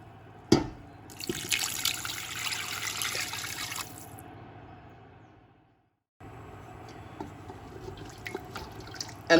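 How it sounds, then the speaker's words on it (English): Water pours into a pot of vegan curry with turmeric, paprika and chili, a close splashing trickle that stops, followed by quieter simmering and occasional drips. "After like this, add water."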